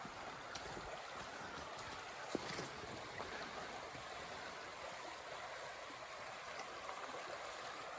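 Continuous broadband rush of a river flowing out of sight behind trees along a forest trail, an even watery wash with a few brief clicks and footstep-like knocks.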